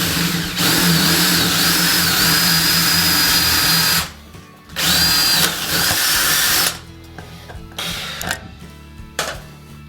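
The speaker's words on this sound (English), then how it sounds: "Okay, so just drill through there." A power drill whines loudly in sustained bursts while drilling through during a loft ladder installation, pausing briefly between runs, then giving way to quieter clattering handling noises.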